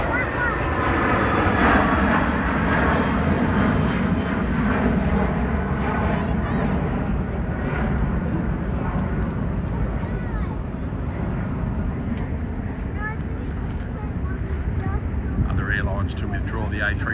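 Jet airliners, including a United Boeing 777-300 and Qantas A380 and A330, depart Sydney on runway 34L with a loud, sustained engine roar heard from a distance, with talk and wind noise over it.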